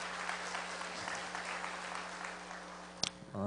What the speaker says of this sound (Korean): 다시 한번 아이들을 위해서 박수 부탁드립니다